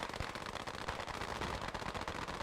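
Rapid gunfire in an online multiplayer shooter match as players fire into the air in celebration, a dense, continuous crackle of overlapping automatic shots.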